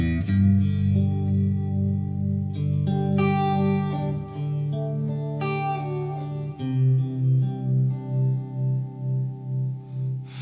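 Clean electric guitar chords and single notes through a Line 6 Helix with parallel tremolo ring out with a wavering, pulsing shimmer that becomes a steady rhythmic throb on the final sustained chord.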